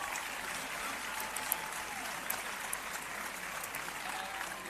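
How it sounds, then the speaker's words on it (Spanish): Sustained applause from a crowd at a women's football team presentation for the 2023/24 season, honoring a player, as steady broadband clapping with a few sharper claps standing out throughout. "Un aplauso para Andresa."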